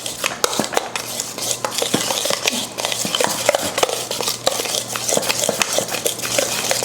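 A utensil mixes ingredients in a bowl, giving quick, irregular clinks and scrapes against the dish that repeat steadily at close range.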